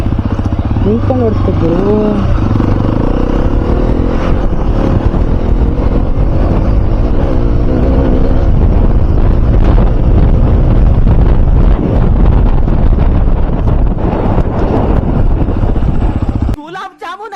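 A Hero XPulse 210 motorcycle rides over rough off-road ground, its engine and tyre rumble loud and continuous, buffeted by heavy wind noise on the microphone, with someone speaking briefly over it near the start.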